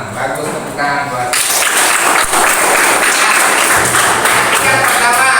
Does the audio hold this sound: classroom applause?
yes